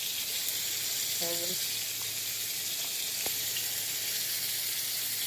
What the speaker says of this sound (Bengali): এই যে রুই মাছ ভাজছি